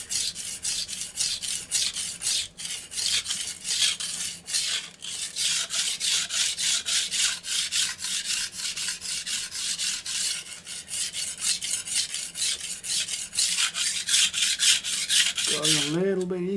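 Kitchen knife sharpened on a Japanese whetstone, a steady run of rhythmic scraping strokes back and forth at close range, moderately loud and unbroken for several seconds, with a brief clunk near the end.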